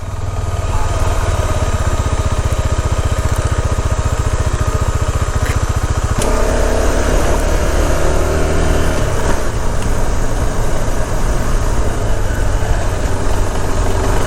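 A small motorcycle runs continuously while being ridden, its loud, close buzzing engine droning steadily the whole time with wind noise, and a slight shift in pitch partway through.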